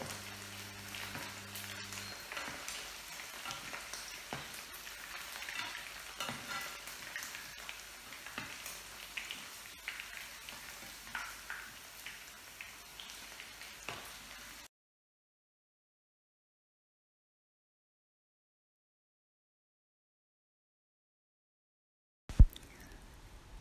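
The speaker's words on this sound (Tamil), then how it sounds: "சிக்கன் நல்லா குக் ஆகிடுச்சு, அதாவது டீப் ஃப்ரை ஆகிடுச்சு" Chicken 65 deep frying in oil, a soft, continuous bubbling sizzle lasting about fifteen seconds before everything drops into silence, then a brief knock near the end.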